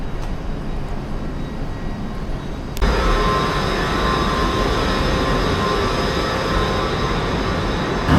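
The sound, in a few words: London Underground Piccadilly line train at Terminal 5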